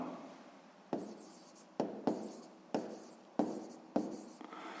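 Handwriting during a sixth-grade math lesson, with about six quick scratchy pen strokes in an uneven rhythm, each sharp at onset and fading, heard close with no talking.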